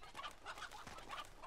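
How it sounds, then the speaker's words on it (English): Chickens clucking in the video game Uncharted 2: Among Thieves, a few short repeated clucks and calls close by over a steady game ambience, no talk. "Hey, chickens."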